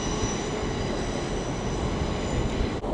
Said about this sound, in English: there goes 800-106 with the 1415 LNER Azuma service to London King's Cross from Harrogate